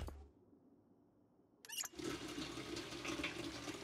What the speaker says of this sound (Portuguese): Eu vou encher essa panela no banheiro